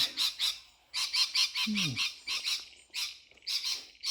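Loud squawking birds call close by in rapid, harsh bursts that repeat rhythmically and fill the air, with a brief low croak and a faint spoken word among them.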